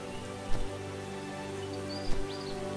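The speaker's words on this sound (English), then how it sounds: "it's raining, that's why it's doing that" Steady, even rain patter in a farming video game, a constant hiss held at a moderate level for the whole stretch, with two brief brighter bumps and faint chirp-like tones drifting above it.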